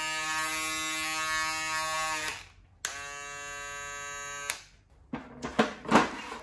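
An Andis Profoil Lithium Plus electric foil shaver runs with a steady buzzing hum, switched off and on again, then gives a few short bursts and clicks as it is handled.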